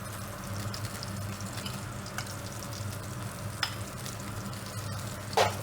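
Mashed potato stirred into a cream, butter and spring onion sauce in a pan, giving a continuous low bubbling sizzle with faint scraping strokes and a brief metallic clink near the end; no talking.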